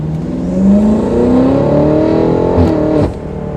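Rare Rosso Corsa Individual BMW M5 accelerating hard, its engine note climbing loud and close through a steady rising rev for about three seconds before the throttle lifts and the sound drops back.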